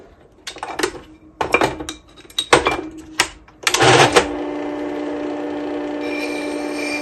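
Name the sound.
carving tool being sharpened on finer side of stone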